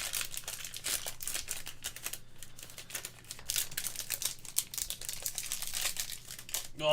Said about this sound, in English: Oh, this pack is not wanting to open nicely.